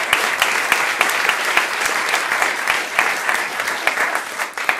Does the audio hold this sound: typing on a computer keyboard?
no